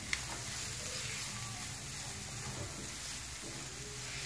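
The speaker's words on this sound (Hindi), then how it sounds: "हमने वेजिटेबल को ज़्यादा नहीं पकाना, बस हमने 1 मिनट के लिए इसको पकाना है" Vegetables, boiled chicken and spices sautéing in a pan, a steady, moderately quiet sizzle and crackle throughout, with faint stirring scrapes.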